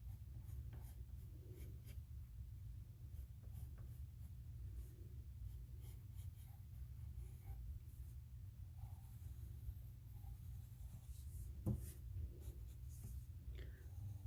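A pencil scratches steadily across paper while outlining an animal portrait drawing, a soft continuous scraping with small strokes and pauses, close and quiet with no talking.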